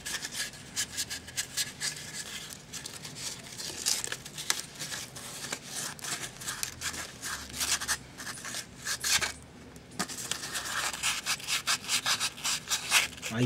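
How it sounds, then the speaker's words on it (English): Sandpaper scrubs around a copper pipe to clean it before brazing with MAPP gas, a steady rapid rasping rub in short back-and-forth strokes, close and fairly quiet, with no talking. "I'm just going to use some sandpaper. I'm just going to clean around the area of this pipe."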